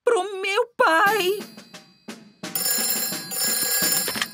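An animated telephone bell rings in a Peppa Pig cartoon: two sharp warbling bursts, then a brighter sustained ring under cartoon voices and a musical sting.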